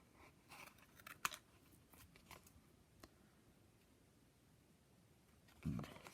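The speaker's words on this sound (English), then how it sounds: "my scissors at a 45-degree angle as I work round, and just work round, cutting right on the black line" Scissors snip around a card stencil in a few quiet, crisp cuts spaced irregularly, close to the listener, with a soft low thump near the end and no voice.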